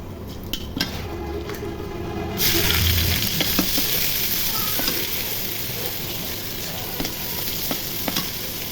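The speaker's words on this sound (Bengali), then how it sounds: "পেঁয়াজ ভাজা হয়ে গেছে" Onions sizzle in hot oil, a continuous crackling hiss with scattered clicks of a spatula stirring against the pan.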